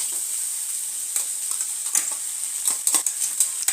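A spoon stirs grated coconut into a pan of vegetable curry, giving soft scraping strokes at an irregular rhythm over a faint, steady sizzle, close and quiet, with no talking.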